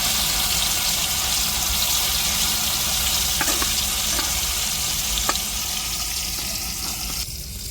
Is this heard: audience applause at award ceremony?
no